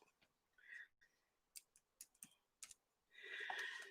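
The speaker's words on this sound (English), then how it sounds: "Excuse me while I type in my password." Keys tapped on a computer keyboard while a password is entered, a few short bursts and scattered isolated clicks, fairly close and quiet, with no talking.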